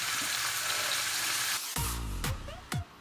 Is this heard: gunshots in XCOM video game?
no